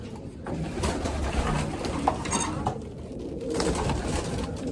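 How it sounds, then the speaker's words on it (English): Pigeons coo softly and repeatedly in a flying loft full of hens, several birds overlapping in an enclosed space with a steady background hum. "There's way too many birds in here for my liking."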